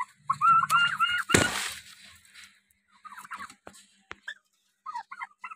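Turkeys on a poultry farm in Raipur, Chhattisgarh, black and white birds, give short bursts of gobbling calls with gaps between them, along with a sharp rustling clatter near the start.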